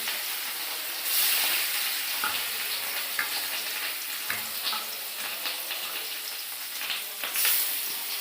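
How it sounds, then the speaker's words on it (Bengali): Fish frying in oil in a wok, a steady broadband sizzle with crackles and occasional louder bursts of spattering, close and continuous, with no talking. "এবারে যে মাছ ভাজা বসাবো কড়াইতে"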